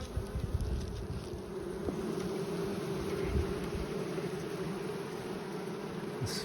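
Honeybees buzz steadily at an open hive during an inspection on a muggy day, a dense close drone that holds through the whole stretch with no voices over it.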